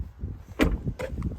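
The door of a 2020 Citroen Dispatch 1.6 HDI Enterprise LWB van shuts with a single solid thud close by, followed by a faint rattle and some soft handling noise.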